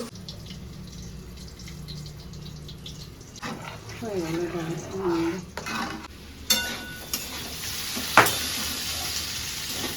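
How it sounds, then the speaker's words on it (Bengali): Potatoes frying in a pan and being stirred, giving a soft sizzle with intermittent scraping and clinks, while a person talks nearby. "আলু ভাজাটা একটু পরপরা করে ভাজবো"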